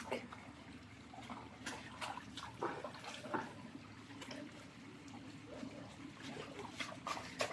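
Running water fills a child's bath at home, a faint, steady trickle and splash that continues throughout with a few brief knocks and rustles in the background.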